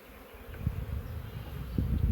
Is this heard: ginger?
no